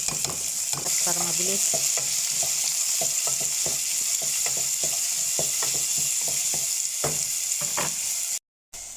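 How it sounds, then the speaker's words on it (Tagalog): Garlic, black lemon and onion sauté in hot olive oil, a loud continuous sizzle broken by frequent sharp clicks of a utensil stirring against the pan, with a brief spoken phrase near the start. "Igisa ang bawang, black lemon at saka onion."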